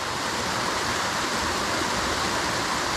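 A small waterfall on a Pennsylvania trout stream rushes in a steady, full, continuous wash of water close by.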